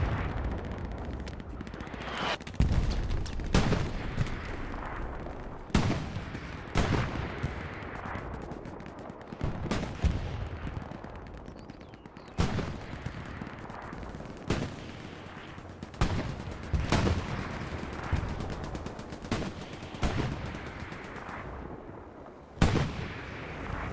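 Battle in the Hell Let Loose video game, with tank cannon booms and gunfire erupting in repeated heavy blasts and crackling shots at irregular intervals throughout, loud and continuous.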